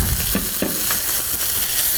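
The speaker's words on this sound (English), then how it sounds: "So now we're going to let our tuna cook until it's warm and browned." Canned tuna sizzles loudly in a skillet, a close, dense frying hiss with a few scraping stirs breaking through, and no talking.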